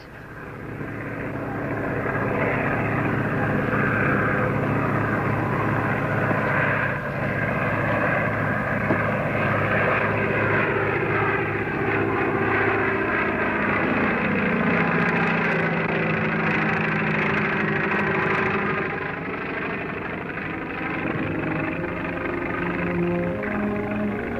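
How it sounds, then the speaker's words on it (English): A crop duster's propeller airplane engine drones loudly and steadily throughout, a continuous rumble with a slight pulsing texture and no voices. "His airplane."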